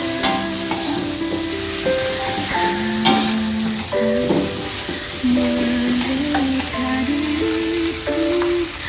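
Ground spice paste frying in a hot pan, a continuous loud sizzle with scraping stirring and light rattles, while melodic background music plays throughout and no one speaks.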